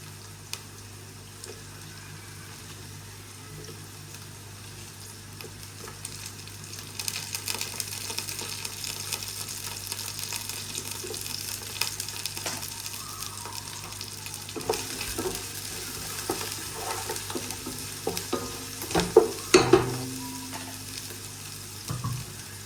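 Green chillies sautéed and stirred in a pan, a steady soft sizzle with scattered scraping stir strokes that grow busier and louder toward the end, with no talking.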